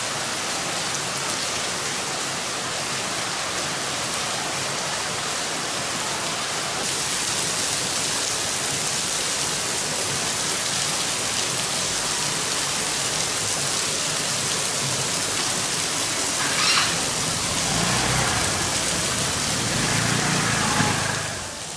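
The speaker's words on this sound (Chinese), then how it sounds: "天天下雨，而且下的都是暴雨。" Heavy rain pours down steadily on a car during a daily stormy downpour, a dense, constant hiss with no pauses and a slight swell near the end. No one speaks.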